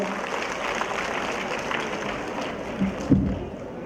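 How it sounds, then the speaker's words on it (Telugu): Steady applause from an audience at a women's self-help group event in Vijayawada, a dense wash of clapping with a couple of louder bumps near the end. "గట్టిగా చప్పట్లు కొట్టి"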